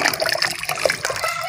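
A cloth dropped and swished into water in a household setting, giving a short wet splash and trickling slosh that stays close and fairly steady throughout.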